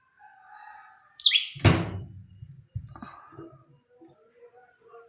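A small bird chirps in short, high tweets, with a sharp knock and some faint thumps mixed in nearby.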